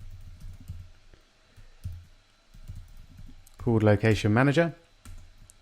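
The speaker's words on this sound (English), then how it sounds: "Let's get typing." Clicky computer keyboard typing comes in short bursts of keystrokes, moderately close, with someone talking briefly over the later part.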